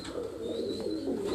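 Pigeons cooing on a rooftop loft in Larkana, Sindh, a soft continuous low murmur of coos, close and steady without speech.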